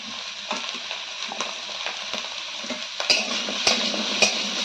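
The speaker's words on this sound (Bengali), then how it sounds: "এখন কুঁদরিগুলো ভালো করে একটু নাড়াচাড়া করে নেব।" Ivy gourd with potato and onion stirred in a frying pan, a spatula scraping and clinking against the pan over a soft steady sizzle, with sharper scrapes toward the end.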